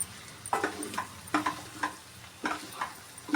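Tomato puree is stirred into a prawn and okra curry cooking in a pan, making a run of rhythmic scraping, sloshing strokes with a faint sizzle beneath, close and moderately loud with no talking.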